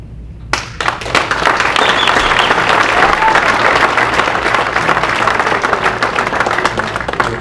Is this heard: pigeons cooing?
no